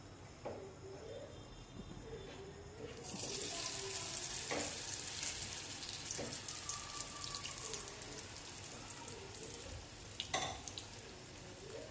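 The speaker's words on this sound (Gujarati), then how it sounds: "હવે આપણે બ્રેડ પકોડા છે એને બેટરમાં લઈને તળી લઈશું." Batter-coated bread pakoda fries in medium-hot oil, giving a loud continuous sizzle and bubbling that swells after a quieter start, with occasional stirring clinks.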